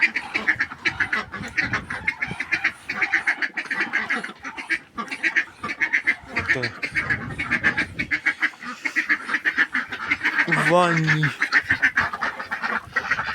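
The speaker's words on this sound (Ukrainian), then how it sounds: "там вже качер купається" Several domestic ducks quack busily and repeatedly nearby, an overlapping chattering chorus, with a brief spoken remark in the middle.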